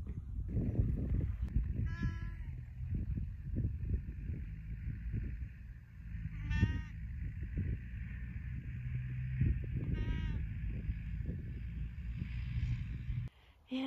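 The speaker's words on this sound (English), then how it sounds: "Just standing here listening to the birds and the sheep." Three wavering bleats from sheep at a distance, spaced a few seconds apart, over a steady low rumble and faint birdsong.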